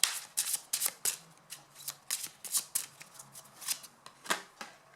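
Oracle cards are shuffled by hand in a quiet room, a rhythmic series of soft, crisp riffling bursts repeating about every half second.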